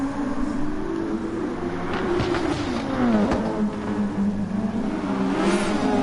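Formula racing cars, an Alpine and Mercedes, scream around Interlagos in a racing video game, a continuous high engine whine rising and dipping as the cars accelerate and brake close together.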